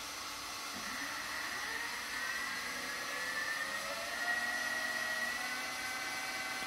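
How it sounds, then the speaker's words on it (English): A steady, faint mechanical whine with a rising tone from the hydraulic pump running on a Kobelco SK500 LC excavator, continuous for several seconds with no talking. "the first thing I'm going to do is just turn on the hydraulic pump to see if"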